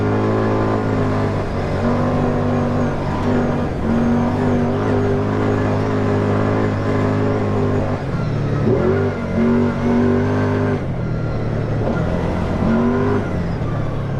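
A 2019 Kawasaki Teryx4 LE side-by-side engine at full throttle, droning steadily loud and close with rising and falling revs as it surges down a straightaway.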